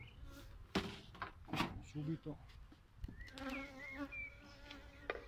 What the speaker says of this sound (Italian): Le api sono già abbastanza nervose